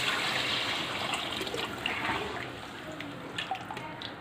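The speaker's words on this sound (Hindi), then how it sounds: "मसालों को 1-2 मिनट मैंने पकाने के बाद इसमें शामिल कर रही हूँ पानी।" Water pours into a pot of spiced haleem with chicken and lentils, a steady splashing rush close by that fades slightly over a few seconds, with no talking.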